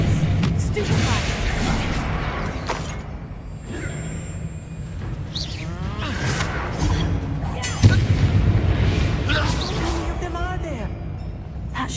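Spell combat in the Hogwarts Legacy video game, with a busy mix of booms, crashing impacts and magical whooshes, loud and continuous, while voices speak over the fight.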